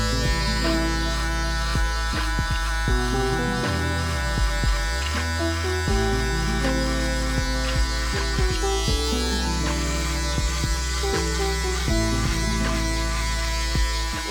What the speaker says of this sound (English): Next step, I'm gonna go ahead and use my shaver.